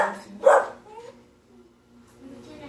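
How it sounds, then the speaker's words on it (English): A dog gives two short barks nearby, then a softer whine trails off into quiet. "Tavia's barking because Pippin's outside"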